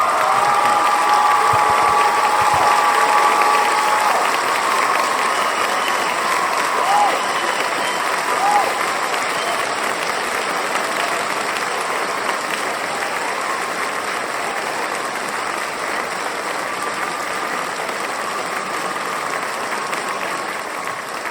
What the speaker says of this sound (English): A round of applause for Graham Hancock.